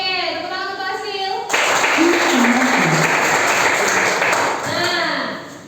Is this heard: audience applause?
yes